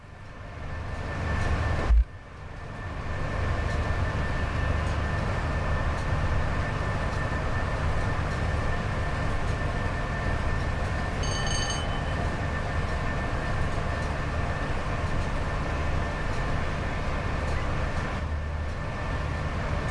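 A train runs on the West Coast Main Line between Preston and Carlisle in Train Sim World 5, a steady loud rolling rumble with a brief thump near the start and no clear rail-joint clicks.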